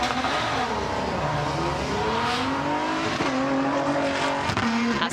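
A Toyota Dakar rally car launches off the start line of a forest rally stage, its engine roaring loud and close as the revs climb and shift in a sustained, rising growl.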